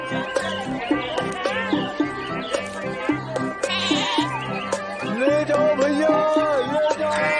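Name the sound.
goat bleating at a market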